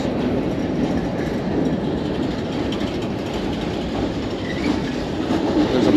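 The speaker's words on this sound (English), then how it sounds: "That's the most locomotives I've seen in real life." Rumbling train noise fills the clip, a steady dense roar of seven locomotives and rolling railcars passing through the Eugene, Oregon train station, with faint clicking of wheels, loud and continuous.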